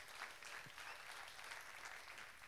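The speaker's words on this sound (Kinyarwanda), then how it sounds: "Reka tumukomere amashyi arabikwiriye" A congregation applauds its pastor during an Easter sermon, faint and distant, a steady even wash of clapping with no voices over it.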